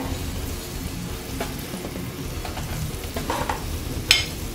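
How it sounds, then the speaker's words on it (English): Meat searing in a deep oven-safe pan, a steady close crackling sizzle with scattered pops and a sharp spatter near the end, with no voices. "we're just going to try to sear all sides"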